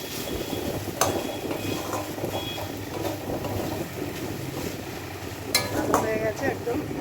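Taro flower ghonto being stirred in a pot, soft scraping and stirring under a low steady kitchen hum with occasional clinks, no voice present.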